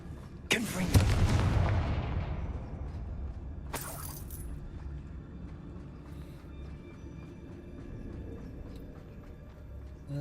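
A Confringo blasting spell goes off in Hogwarts Legacy as a sudden loud explosive boom with a rumbling decay, then a second sharper crack a few seconds later, over a low game ambience.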